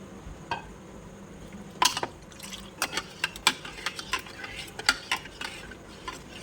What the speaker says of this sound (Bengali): রুয়াবজা দিয়ে ভালো করে মিশিয়ে নিব